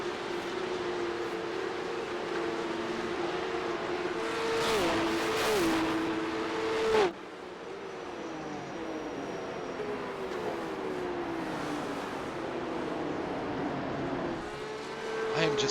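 Porsche 911 Cup (992.2) race cars at Sebring in a racing game, engines droning and shifting pitch as they accelerate and lift, with a sharp cut in the engine note midway and other cars whining in the background.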